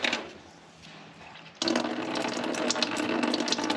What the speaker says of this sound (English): This time we're just draining the radiator.